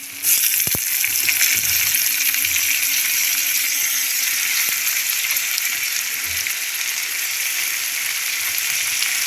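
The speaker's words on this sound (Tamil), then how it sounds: "இப்போ இதையும் சேர்த்து நல்லா வதக்கிக்கலாம்." Ripe tomatoes sautéing with onion and garlic in a pan, a steady loud sizzle and hiss with a few faint stirring knocks, close up and with no talk.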